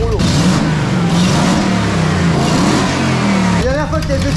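A Ford Mustang on a chassis dyno roller, its engine droning loud and steady with a low rumbling tone that rises and falls, then a sharp change near the end; voices talk over it.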